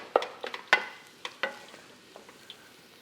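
Thick choux dough cooks in a pot on a stovetop, heard as a few separate soft slaps and scrapes from stirring over a faint background hiss, sparse and close.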